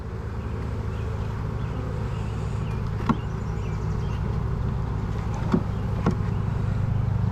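Honeybees in an open hive drone steadily and up close, a low, even buzzing that carries throughout, broken by a few faint clicks, with no talking over it.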